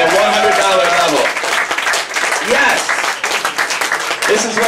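Audience at a political campaign fundraiser afterparty bursts into loud, dense applause with cheering, and a voice speaks over the clapping partway through.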